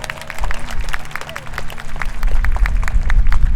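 Audience at a middle school promotion ceremony clapping and cheering, the applause steady and building, with people chatting in the crowd.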